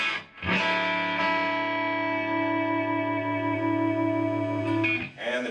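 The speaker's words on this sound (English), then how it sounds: "And give it a little reverb because single coils love reverb." A single-coil electric guitar rings out through a 7-watt clean tube amp with two 6V6 tubes in push-pull, set to the less bright switch position with reverb added: one sustained chord rings for several seconds, then a brief pick scrape at the end.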